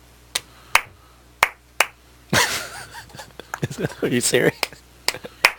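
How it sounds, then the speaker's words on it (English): Sharp, close hand claps arrive in quick pairs to start a show timer, crisp isolated snaps separated by silence, followed by a burst of people talking and laughing, then more single claps. "Press the black button on the timer, and then you clap twice to go on the air."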